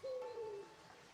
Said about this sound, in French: Vous ressentez la joie des oiseaux et au-delà du chant merveilleux des oiseaux